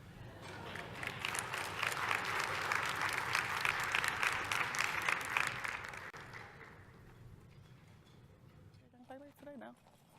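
Audience applause at a Philadelphia forum: a large crowd claps in dense, sustained applause for about six seconds, then it fades away, leaving a quiet room with a brief voice near the end.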